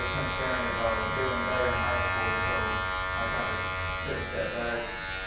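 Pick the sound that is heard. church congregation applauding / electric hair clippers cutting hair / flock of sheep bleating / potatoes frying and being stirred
electric hair clippers cutting hair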